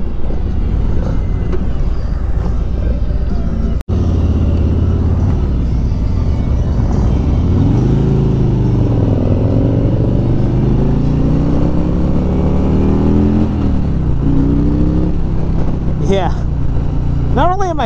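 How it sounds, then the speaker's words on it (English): Loud, continuous 2018 Harley-Davidson Street Glide engine and exhaust rumble while riding, rising and falling with revs as it accelerates, with wind noise throughout. "I'm digging the exhaust on this bike. I'm digging the power."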